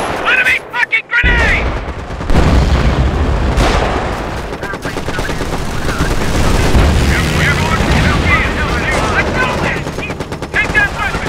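A grenade blast erupts amid heavy machine-gun and rifle fire on a WWII Arnhem battlefield in Company of Heroes, loud continuous gunfire with shouted voices over it.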